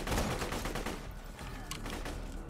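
Rapid, dense gunfire from the Mad Moxie corrosive gun in Borderlands 2 pours out as a loud, continuous rattling stream with mechanical clatter throughout.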